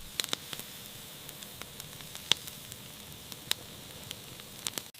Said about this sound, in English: That first sizzle, Hanoi's alarm clock.